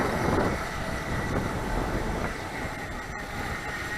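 A small brushless motor of a FeiLun FT012 RC racing boat buzzes steadily at a constant pitch at about quarter throttle, mixed with broadband rushing water noise, fairly close and continuous throughout.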